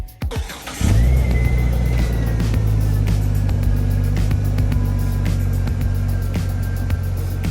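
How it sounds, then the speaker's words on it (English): A Jeep engine starts up and runs loud and close as it drives while towing another Jeep up into a driveway. The strong steady rumble carries a rising whine, with no talk. "So we used one Jeep to pull the other Jeep up into the driveway"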